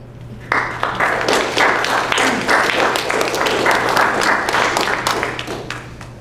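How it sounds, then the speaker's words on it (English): An audience applauds after a poem at a guest author reading, steady dense clapping starting abruptly, filling the room at close range and holding level before easing slightly at the end. "you don't have to clap after every one"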